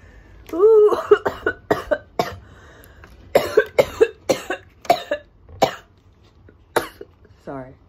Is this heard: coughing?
yes